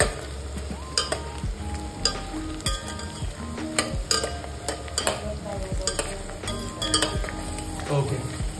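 Green and red Kashmiri chillies fry in a pan for kadhi, with a steady background sizzle and repeated clinks and scrapes of a spoon stirring against the metal pan.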